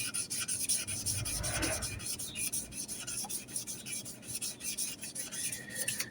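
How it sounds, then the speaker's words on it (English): An epoxy resin knife handle being sanded by hand with 800 grit paper, a steady rhythmic rasping and rubbing at close range, continuous strokes with no voices. "I'm on an 800 grit now with it."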